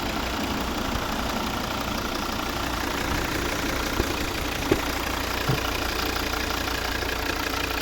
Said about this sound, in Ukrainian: Ось наш знаменитий двигун.